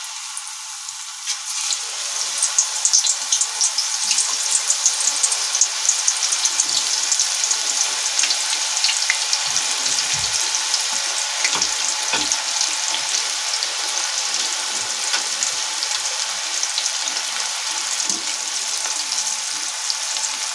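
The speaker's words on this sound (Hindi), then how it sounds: "तेल हमारा गर्म हो चुका है। अब मैं ये केले के पीस छोड़ दूंगी इसमें।" Banana slices frying in hot oil, a dense, constant bright sizzle and crackle that holds steady and fairly loud throughout, with a few soft bubbling pops and no speech.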